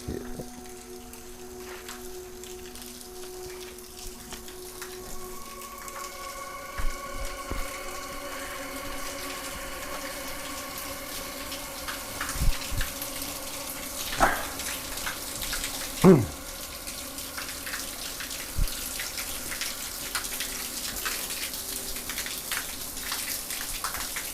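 Water pours steadily from a spring spout at an outdoor bathing site, a continuous close rushing splash that carries on without pause, with a few faint knocks and movements in the background.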